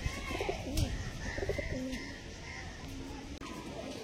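A flock of active, healthy pigeons coos close by in soft, overlapping throaty calls that continue steadily throughout.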